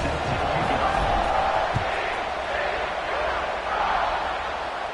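Steady wash of stadium crowd noise at kickoff in a football video game, a broad constant roar from a distance with no sharp peaks, while commentary talk runs over it.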